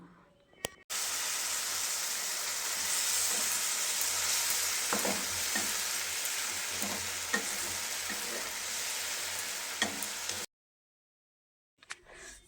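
Ginger-garlic paste and turmeric masala cook down with a little water in a pan, making a steady, close sizzle broken by soft stirring scrapes that stops abruptly near the end, followed by a brief clatter.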